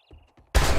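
A pipe shotgun fires in the zombie survival game 7 Days to Die, one loud sudden blast after a few faint clicks and small handling noises, close and alone.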